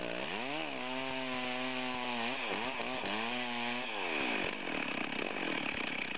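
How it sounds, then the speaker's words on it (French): A Stihl chainsaw runs with a steady droning whine, then bogs and rasps as it cuts three-quarters of the way through a log, the engine pitch dipping under load; close and prominent. "on va couper aux 3/4 le billon"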